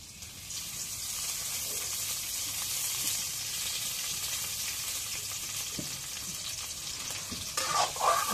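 Oil sizzles steadily and loudly in a hot frying pan, a continuous bright hiss close by, with a few scraping stirs and a louder clatter near the end.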